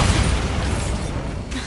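A Bombarda spell blast in the video game Hogwarts Legacy, a loud sustained boom with dense low rumble and broadband crackle that fills the whole moment before a short shift near the end.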